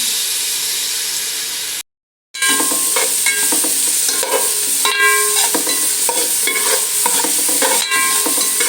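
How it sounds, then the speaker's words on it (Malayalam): Onion, tomato sauce and crushed ginger, garlic and green chili sautéed in a pan: steady close sizzling with repeated stirring and scraping strokes, broken by a brief silent gap near the start. "ഇതിൻ്റെ പച്ചമണം മാറുന്ന വരെ വഴറ്റി കൊടുക്കാം."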